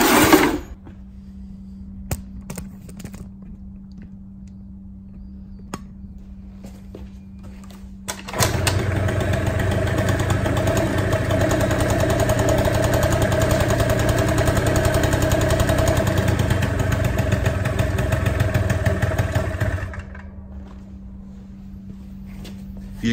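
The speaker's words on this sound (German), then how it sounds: "Und jetzt starten wir den Roller und halten diesen Schnorchel zu." A scooter engine runs at idle while its air intake snorkel is held shut during a false-air leak test; it starts with a burst, settles into a steady mechanical drone close by, then cuts off, with no talk.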